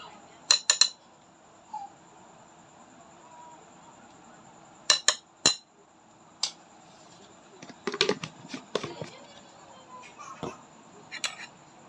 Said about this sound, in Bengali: অল্প অল্প জল দিয়ে গুলিয়ে নিব